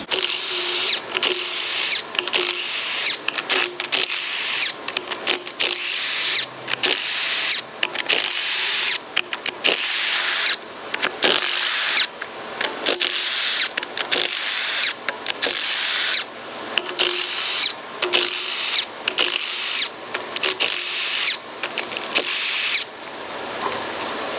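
A power tool such as an impact driver or drill spins out cylinder head bolts on a water-damaged 350 small block engine, loud whirring bursts repeating in a quick, uneven stop-start rhythm at close range, no speech.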